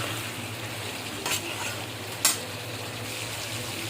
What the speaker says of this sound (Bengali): সব কিছু দিয়ে ভালোভাবে পটলটা কষিয়ে নেব।